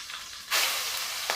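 Crushed spice mixture hits hot coconut oil with popped mustard seeds and curry leaves, a loud hissing sizzle bursting up after a brief quiet moment and holding steady, with a small flare near the end.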